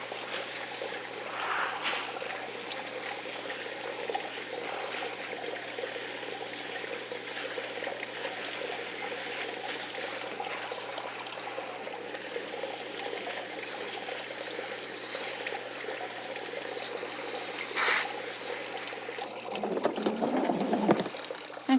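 Garden hose on a gentle shower setting steadily watering down a pot in a cottage garden, a continuous soft hiss of spray that swells louder and closer near the end.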